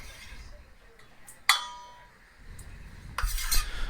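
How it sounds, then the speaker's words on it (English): A knife dices hard-boiled egg whites on a board, producing a few sharp clinks and taps spaced out over a quiet kitchen background, close and fairly crisp. "I like to cut up, kind of dice the whites here"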